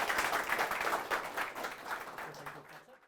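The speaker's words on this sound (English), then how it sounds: "Please, a big round of applause for Bhuwan" An audience applauds Bhuwan, a loud, dense round of clapping that starts at full strength and gradually tapers off, fading out at the close.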